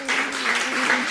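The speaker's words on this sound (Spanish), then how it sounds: "Este aplauso es para vos." Audience applause after a talk at a Buenos Aires public-decision event, a dense continuous patter of many hands clapping at moderate loudness, filling the whole short moment without voices.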